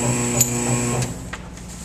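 A PTS8 hose crimping machine runs with a steady electric motor hum and whine, a couple of short clicks, then the hum drops away as the machine reaches its preset position and stops.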